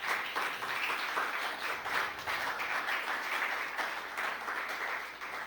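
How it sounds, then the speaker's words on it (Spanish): A church congregation applauds in praise during a sermon, a dense, steady wash of many hands clapping that carries on without a break and with no voice over it. "¿Por qué no le da un aplauso al Señor?"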